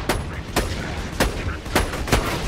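Video game gunfire cracks out in a steady series of sharp, loud shots, about five evenly spaced bursts over a dense, noisy background of game sound, with players talking faintly underneath.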